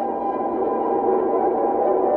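Random melody notes smeared with heavy reverb until the pitches blur into a sustained synth pad, a steady dense wash of tone with no distinct attacks, even and moderately loud throughout.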